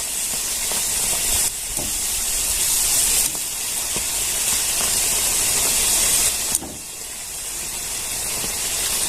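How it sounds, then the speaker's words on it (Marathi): Pumpkin puris deep frying in hot oil give a loud, steady hiss and sizzle that carries on throughout, with a few sharp breaks and bursts as the dough is pressed and turned. "आता सगळी पुडी आपण अशीच तळून घ्यायची"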